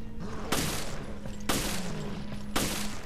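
Gunfire in the video game Resident Evil: Revelations: three loud, sharp shots spaced about a second apart, each with a short decaying tail over a constant low game hum.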